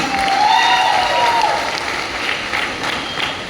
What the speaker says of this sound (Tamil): கடவுளுக்கு ஒரு பெரிய பாராட்டு